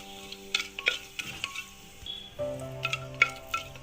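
Cinnamon, cloves and cardamom frying gently in ghee for ghee rice, with soft crackling, light sizzle and a few clinks of a spoon stirring against the pan.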